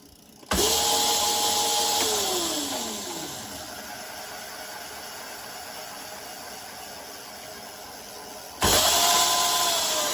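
Over-volted Razor SX500 electric dirt bike motor on 48V SLA batteries, whining loudly as it spins up, then winding down in pitch to a slower steady hum before abruptly revving up again at the end.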